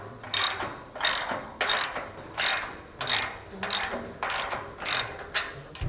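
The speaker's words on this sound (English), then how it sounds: "just use a 3/4" socket or wrench to tighten it down" A 3/4 inch socket wrench ratchets a bolt on a replacement 2-inch hitch shank for a Yakima HoldUp bike rack, giving eight or so steady bursts of sharp clicking at close range, with no talk.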